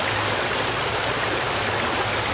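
A creek runs swollen after a big storm, its broadband rushing water steady and close, with a constant churning wash and no voices over it.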